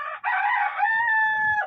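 A tiger chicken rooster gives one close, clear crow that starts with a short rough note and then stretches into a long, sustained call before it cuts off.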